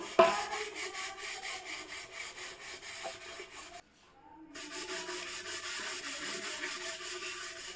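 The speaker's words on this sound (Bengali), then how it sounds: "এবার আমি এটা এখানে ঘষবো" A brass jug is rubbed clean by hand, with steady repeated scrubbing strokes up close, a short pause in the middle, then the rhythmic rubbing resumes.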